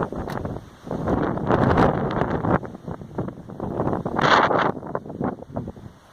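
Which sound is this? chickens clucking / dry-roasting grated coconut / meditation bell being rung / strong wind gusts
strong wind gusts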